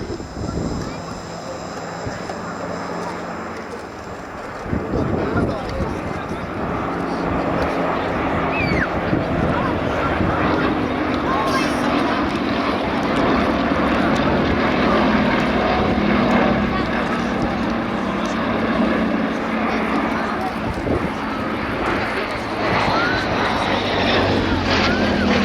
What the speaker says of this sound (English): Shows us some of the delectable handling of this, the RAF's last new biplane fighter.